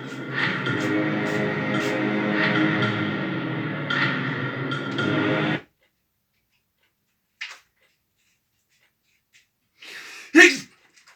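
A single sharp sneeze bursts out near the end, following a long stretch of steady broadband noise and a brief quiet gap with one small intermediate sound.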